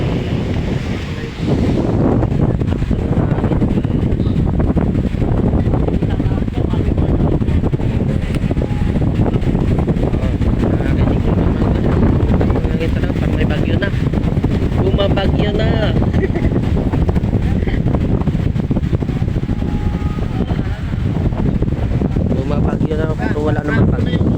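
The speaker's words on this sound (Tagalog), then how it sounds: "masyado nas lang maingay kasi ang lakas ng hangin" Strong mountain wind buffets the microphone in a constant loud rumble for the whole stretch, with faint voices mixed in underneath.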